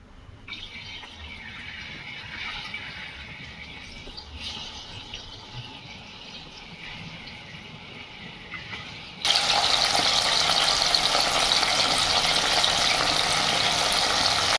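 Cornflour-coated mushrooms fry in hot oil in a kadai with a steady soft hiss that turns abruptly louder and denser partway through as more pieces go in, then holds a full, even sizzle with no talking.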